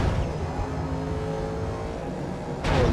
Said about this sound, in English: I think the sound of my car just changed. It got like deeper